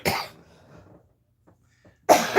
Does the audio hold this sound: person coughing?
yes